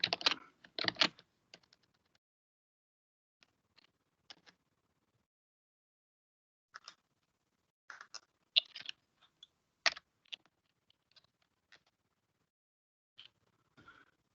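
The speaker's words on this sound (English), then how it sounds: "So I just typed C Windows here on the search." Typing on a computer keyboard, close and quiet, with a quick flurry of clicks at the start followed by sparse, irregular keystrokes separated by silent pauses.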